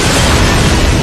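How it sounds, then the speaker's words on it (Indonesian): A gas lighter explodes inside a microwave in a drama scene, starting a fire: a loud, dense blast roars steadily through the whole moment, filling the sound with no voices. "mendengar bunyi ledakan"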